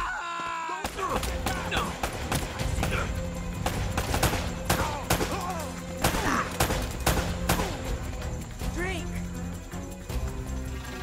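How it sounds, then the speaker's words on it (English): Rapid bursts of gunfire from a firefight in Uncharted: Drake's Fortune, sharp repeated shots and volleys in an ongoing exchange, with voices talking amid the shooting. "They're shooting at you too, you know."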